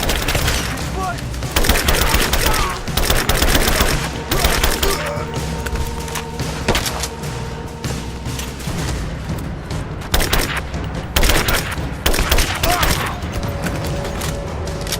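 Gunfire from the video game Rise of the Tomb Raider rattles in dense, loud volleys with repeated sharp bursts and booms, over a continuous battle din with brief shouted voices mixed in.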